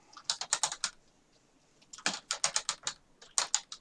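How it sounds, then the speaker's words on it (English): Quick bursts of typing on a computer keyboard, close and crisp, with clusters of clicky keystrokes separated by a short pause. "Sorry for the typing noises. I'm sure that's super obnoxious."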